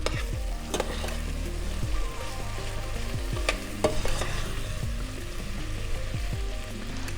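Food fries gently in a pan during a lamb and curry cooking masterclass, a steady soft sizzle with occasional stirring scrapes and clicks, close and continuous with no talking.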